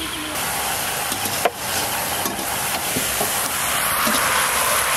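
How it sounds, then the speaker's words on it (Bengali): Fried potato and cauliflower sauté with spices in a pan, giving a steady close hiss of sizzling with occasional scraping clicks as the vegetables are turned. "মশলার সঙ্গে খুব ভালো করে আলু আর ফুলকপি কষে নেবো"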